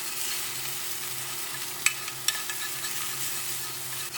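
Food being scrambled in a frying pan gives a constant close sizzle, with two sharp utensil scrapes or taps against the pan partway through.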